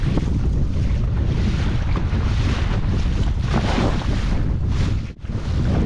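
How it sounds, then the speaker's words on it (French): Sea waves wash around a fishing kayak off the cliffs of Guadeloupe, producing a loud, unbroken roar of water and surf mixed with heavy wind buffeting on the microphone. One brief dip occurs near the end. "Wow, les vagues."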